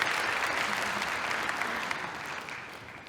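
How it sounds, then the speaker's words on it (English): Conference audience applauding at a welcome session, a dense wash of many hands clapping that starts loud and gradually thins and fades over about three seconds, with no talk over it. "we're going to clap for him anyway"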